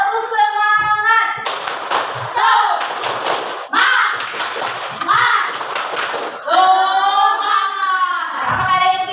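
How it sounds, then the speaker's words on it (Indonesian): Fourth-grade pupils in an Indonesian classroom clap a rhythmic spirit clap in short bursts between stretches of their own chanting and singing, with loud close voices carrying most of the clip. "Tepuk semangat."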